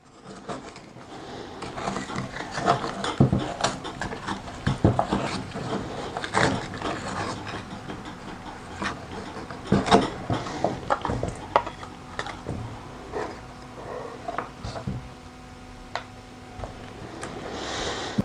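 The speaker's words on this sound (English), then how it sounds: "when using the butter knife to pry off the meat of the coconut" A butter knife pries coconut meat away from the hard shell, making repeated close scraping, rubbing and cracking noises with irregular rhythm and sharp snaps throughout, no voices.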